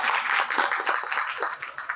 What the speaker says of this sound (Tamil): அதனால தயவு செஞ்சு நீங்களே ஒரு தடவை கைத்தட்டிருங்க